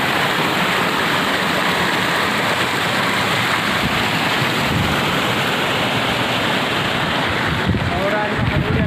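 Cyclone winds drive rain and water waves across a flooded paddy field, a loud unbroken rushing wash mixed with buffeting wind noise on the microphone, steady throughout.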